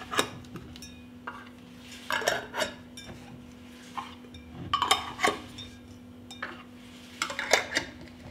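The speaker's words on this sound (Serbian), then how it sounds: "Tegle zatvaram čistim poklopcima." Glass jars are closed with clean metal lids in a kitchen: scattered clinks and rattles come in bursts, close and fairly sharp, over a constant low hum.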